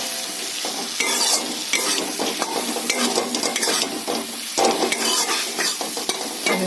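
Cumin powder, hot red chili and ginger frying in a pan, a loud close sizzle broken by frequent clattering stirs and scrapes, with no talk over it.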